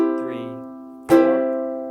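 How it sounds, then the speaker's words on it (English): A ukulele is heard close up: a chord rings out and fades, then one clear strum sounds and sustains, bright and alone. "So here's the simple strum."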